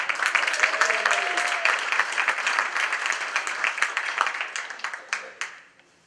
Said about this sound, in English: please lend your applause as these folks come up